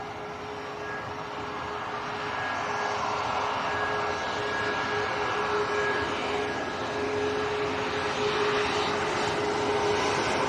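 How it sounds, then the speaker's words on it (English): A Ryanair jet taxiing quickly at Leeds Bradford Airport, a steady broadband engine roar with a faint whine, building slightly in loudness over several seconds, heard from a hilltop vantage point. "Ryanair taxiing very quickly."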